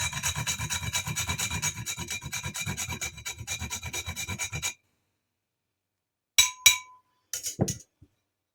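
A whole nutmeg is freshly grated in quick, steady rasping strokes for about four and a half seconds, close and distinct. After a pause come a few light clinks and knocks.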